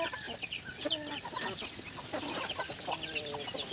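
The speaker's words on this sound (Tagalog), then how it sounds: "Ating native chicken." Native chickens clucking nearby in a farmyard, with several short clucks and calls overlapping against a steady background hum and no talking.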